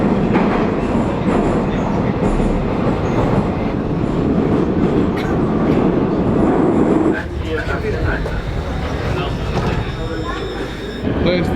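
A Kyiv metro train rolls through the tunnel at Arsenalna, the world's deepest station, with a steady loud roar and rumble from inside the car. A muffled voice talks intermittently, and the noise shifts partway through as the train changes pace.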